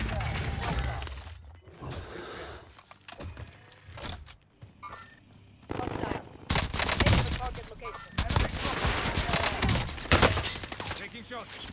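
Gunfire in the video game Warzone: bursts of rapid automatic fire and scattered single shots, loud and close, with mechanical clatter and a voice talking between and over the shooting.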